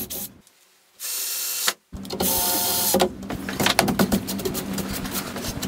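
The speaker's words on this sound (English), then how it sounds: "first drilling pilot holes as we don't want the wood to split, and following on with countersunk screws on both the rails and the cross brace" Power drill boring pilot holes and driving countersunk screws into the rails and cross brace of a wooden picket gate, with several whirring bursts broken by short pauses, close and moderately loud.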